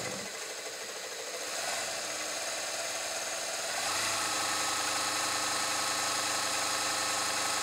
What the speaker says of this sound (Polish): Maszyna przez to, że ma silnik zintegrowany i nie ma paska, ma bardzo małe drgania i bardzo cichutko pracuje.